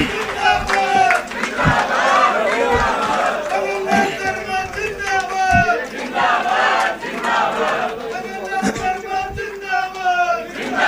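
A large crowd at a political reception welcoming the chief minister roars and cheers continuously, loud and dense, with voices shouting over the sustained din and sharp thumps breaking through at intervals.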